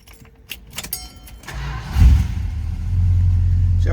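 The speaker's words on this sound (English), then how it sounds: "Let's go ahead and start this up." A 1972 Chrysler Imperial LeBaron engine cranks after a jangle of keys and a few clicks, catches about halfway through and settles into a loud, steady idle close by.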